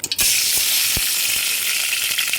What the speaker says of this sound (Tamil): கடாய் வச்சு ஆயில் விட்டாச்சு கடுகு உளுந்த பருப்பு